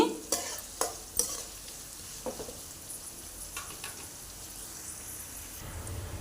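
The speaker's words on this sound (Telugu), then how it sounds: "సాల్ట్ వేస్తున్నాను త్వరగా ఫ్రై అవుతాయండి ఇట్లా వేస్తే" Onions frying in a pan are stirred with salt: a few sharp scraping knocks at first, then a soft, low sizzle that continues quietly.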